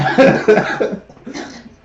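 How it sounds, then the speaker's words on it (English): A short, raspy coughing fit up close, loud at first and trailing off into a fainter cough. "Stop coughing"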